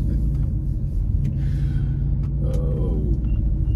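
A 2014 Dodge Durango SUV drives along local roads, a low steady engine and road rumble heard from inside the cabin with a few faint clicks and creaks.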